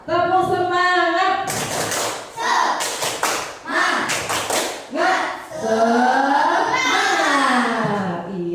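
Children perform a rhythmic Indonesian 'tepuk semangat' clap in a classroom, several sharp group claps and taps in bursts, mixed with kids chanting and singing along throughout.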